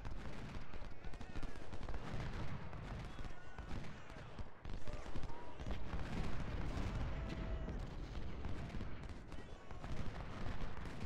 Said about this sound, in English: These guys are going to come in here and fire at this artillery unit.